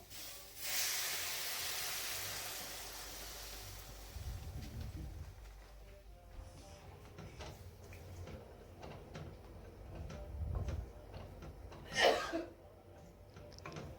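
A pot of curry simmers with a soft, steady hiss and bubbling, joined by quiet kitchen clatter and a brief louder spray of steam near the end.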